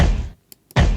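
A deep, punchy drill-style kick drum thumps loud and low, cutting out briefly to near silence with a couple of faint ticks before slamming back in.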